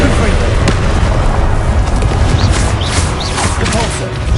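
Rapid spell blasts in Hogwarts Legacy, Confringo among them, thump and crackle as a loud, dense barrage of booms over a rumbling combat bed, with faint shouted voices in the mix.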